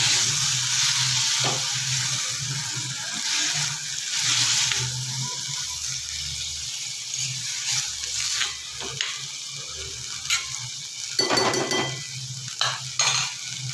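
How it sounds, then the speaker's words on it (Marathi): Konkan-style val bean birde is sautéed in a pan, sizzling steadily up close while a spoon stirs and scrapes, with sharper clinks and scrapes toward the end. "त्याला चांगलं परतून घ्यायचं आहे"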